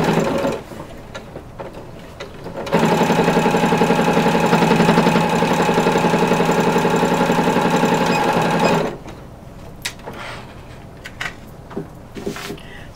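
A sewing machine runs steadily for about six seconds, stitching across one end of a corset bone casing to join two fabric pieces, with quieter handling sounds before and after.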